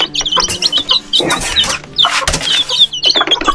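Native black hen with her chicks on a small Philippine mini farm, giving repeated close clucks mixed with high chick peeps in irregular bursts throughout, with no talking.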